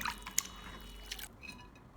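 Water drips and trickles from freshly rinsed bean sprouts as they drain, a few close wet splats and droplets over a brief faint kitchen moment, then a soft quieter tail.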